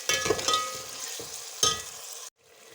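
Green cardamom pods fry with onions in hot oil for chicken biryani, a steady close sizzle with a few louder stirring scrapes before the sound cuts off abruptly.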